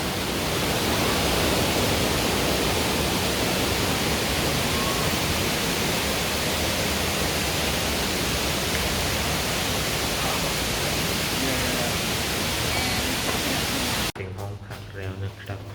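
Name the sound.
Erawan waterfall, third tier, Kanchanaburi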